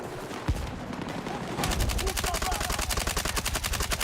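Rapid automatic gunfire in a video game, fired into a training dummy decoy: a single shot, then from about 1.6 s a steady, fast stream of loud rounds, with game ambience beneath.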